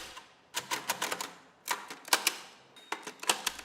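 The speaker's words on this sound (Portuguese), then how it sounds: "Foco em mãos ágeis datilografando em máquina braille." Agile hands type on a braille typewriter in short, rapid bursts of sharp mechanical clacks separated by brief pauses, crisp and close.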